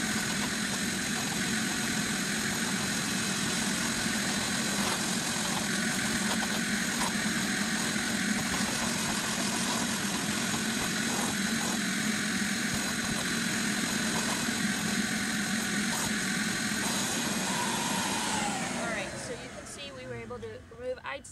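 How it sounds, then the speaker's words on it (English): A vacuum cleaner pulls pet hair from a car rug inside a vehicle: a loud, steady motor drone runs nearly unbroken, then cuts off and winds down near the end. "we're gonna go ahead and do a quick vacuum of this rug"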